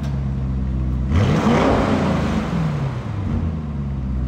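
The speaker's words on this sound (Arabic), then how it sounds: "سامعين الصوت كيف تغير على وضعية سبورت؟" A car engine switched into sport mode revs hard, its loud roar swelling sharply about a second in and then holding a strong, rising growl throughout, with no talking.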